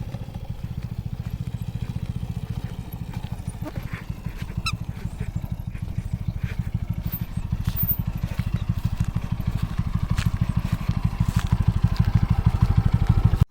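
A motorcycle carrying three riders labours along a sandy road, its engine putting out a steady, close, pulsing drone that grows slightly louder toward the end.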